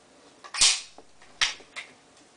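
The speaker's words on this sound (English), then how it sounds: "the air nail gun" A pneumatic air nail gun driving short nails into wooden trim: three sharp, loud pops, the first the strongest, separated by brief quiet gaps.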